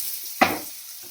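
Sliced capsicum fries softly in a pan. One sharp scrape of stirring stands out before a faint, steady sizzle carries on.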